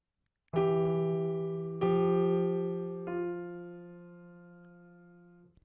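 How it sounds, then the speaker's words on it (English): A sustained chord with F in the bass is struck three times in succession as a 9-8 suspension resolving to an octave, each attack fading slowly, the final one ringing on for a couple of seconds. "The first example is a 9-8 suspension."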